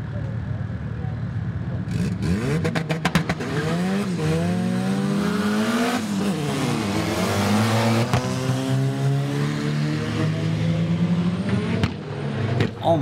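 A race car launches hard from a standstill, the engine revving up through short-shifted second and third gears as the tires chirp and lose traction, loud and close throughout.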